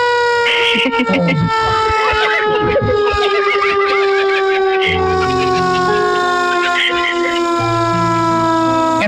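Ambulance siren wailing loudly and steadily with rising and falling tones during a road test with no patient aboard, close by, while people chatter and exclaim over it.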